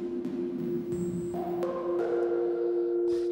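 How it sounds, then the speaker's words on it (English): Synthesized theremin-like tones from Ableton Live's Wavetable with a steady drone, layered pitched notes stepping in, and a soft pop near the end, all washed in reverb. "I'd actually like to hear that popping sound with some reverb on it as well."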